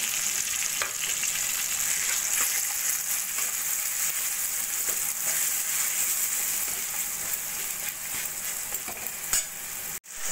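Thin tomato slices fry in a pan with salt, turmeric and cumin powder, giving a steady, close sizzle with occasional stirring scrapes and a brief drop near the end.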